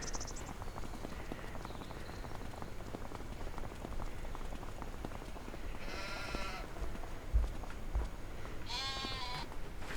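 Sheep in Farming Simulator 25 bleat twice, a short call and then a louder one, over a steady rain-like hiss of game ambience.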